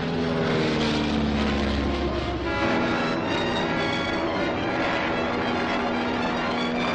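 Steady, loud drone of a propeller airplane in flight fills the whole stretch, a continuous engine roar with a low throb that shifts slightly partway through, no speech over it.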